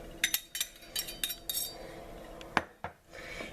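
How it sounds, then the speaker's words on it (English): Custard ingredients are whisked in a bowl: a quick run of metallic clinks and scrapes from the whisk against the bowl, then a pause and a couple more taps, close and fairly quiet. "mix with a whisk"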